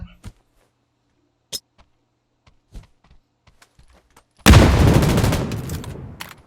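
Sparse faint clicks and distant pops, then a sudden loud grenade trap explosion in PUBG New State with a heavy rumbling boom that slowly fades over the last two seconds.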